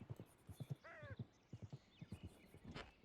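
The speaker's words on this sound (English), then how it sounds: "I hear a horse. Riding this way." A horse's hooves clip-clop in a steady, rhythmic trot in a roleplay video game, coming closer, with one bright whinny partway through and faint voices in the background.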